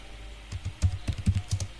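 Quick bursts of keystrokes on a computer keyboard while filling in an online form, irregular clicks clustered over a couple of seconds, close and clear with no voice.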